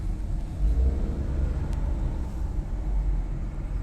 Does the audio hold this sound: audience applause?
no